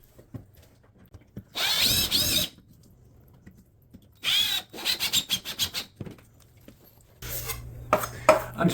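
Screws driven at an angle through plaster cornice into the top studs with a power driver, heard as several close, loud bursts of whirring and grinding separated by quiet pauses, the later bursts choppy and stuttering.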